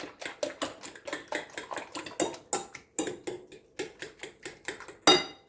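A fork briskly whisks beaten eggs with a little milk in a bowl, a close, quick series of rhythmic clinks and taps against the bowl, ending in a sharper clatter.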